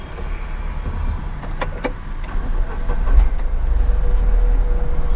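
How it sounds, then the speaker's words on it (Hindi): A manual car moves off after a gear is engaged and the clutch released, a low engine rumble that builds steadily as it pulls away, with a few faint clicks along the way. "तो डालते हैं गियर और छोड़ते हैं क्लच।"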